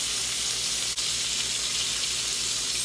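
Pork chops sizzle and fry in butter in a pan with garlic, giving a steady, close crackling hiss that runs unbroken, with a brief dip partway through.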